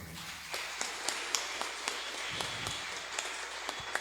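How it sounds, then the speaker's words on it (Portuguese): Church congregation applauding together during a worship service, a steady wash of clapping with sharper individual claps popping out at irregular intervals. "Se você quer dar uma salva de palmas ao Senhor"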